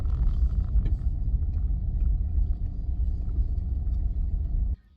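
A car driving, a loud, steady low engine and road rumble heard from inside that continues evenly before cutting off abruptly near the end.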